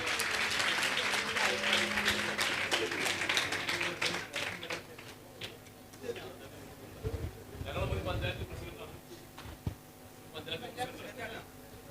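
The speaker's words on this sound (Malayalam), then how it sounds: "എല്ലാവരും നല്ലപോലെ ഒരു ക്ലാപ്പ് ചെയ്യാം." An audience at a mentalist's stage performance claps, a fast, dense patter of applause that starts strong, thins out, and is mixed with talking voices in the hall.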